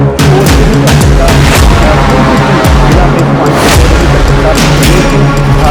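Heavy booming reports ring out repeatedly amid indiscriminate firing at a live attack scene, loud sharp blasts with echoing tails spaced irregularly, a voice faintly present beneath.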